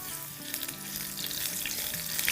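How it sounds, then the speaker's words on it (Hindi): Dried red chillies and crushed garlic sizzle steadily in hot oil in a pan, a close, continuous crackling fry with no talking. "इसको थोड़ा सा सौटे करेंगे और अब इसमें हम डाल देंगे 2 टीस्पून भर के कुटा कुटा लहसुन"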